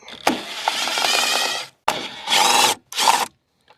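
Two 10mm bolts being worked out of the carburetor on a Kohler Courage engine, heard as three close bursts of gritty ratcheting and rasping metal, loud and separated by short pauses.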